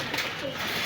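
Jalali pigeons coo at a bird market in Gollamari, Khulna, a soft throaty cooing close by over a steady bed of crowd noise.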